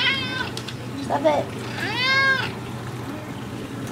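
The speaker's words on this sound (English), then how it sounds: "Stop meowing at me." A cat meows insistently several times, close by, while a person speaks briefly over it.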